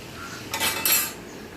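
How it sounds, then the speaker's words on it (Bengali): Fried sweet potato pantua are lifted from the pan onto a plate, producing two quick clusters of bright metallic clinks from a utensil against cookware, close by against a quiet background. "এবার এই ভাজা পান্তুয়াগুলো আমি একটা প্লেটে তুলে নেব"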